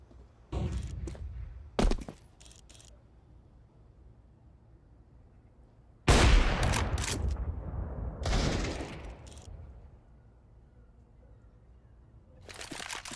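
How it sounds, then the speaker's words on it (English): Flashbang grenades deployed in Counter-Strike 2, heard as sharp bursts of game action, a few early short hits followed by louder broadband blasts and rushing noise around the middle, with another burst rising at the end. "Deploying flashbang"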